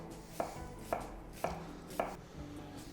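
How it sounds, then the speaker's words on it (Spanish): Four evenly spaced knife chops through onion on a cutting board, crisp close thuds about half a second apart as it is cut into fine julienne strips, with no talking. "Para el arroz lo que vamos a necesitar es las cebollas, las verduritas, las vamos a cortar en juliana muy finita."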